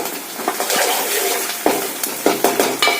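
Ginger garlic paste frying in a pan for egg bhurji, a steady low sizzle broken by several sharp scraping stirs of a spatula toward the end, close and without talk.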